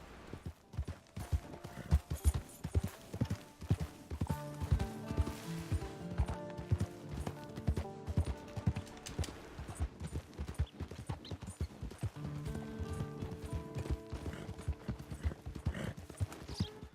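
Horse hooves clip-clop steadily in Red Dead Redemption II, a continuous close rhythm of hoofbeats running the whole way, with game music tones beneath.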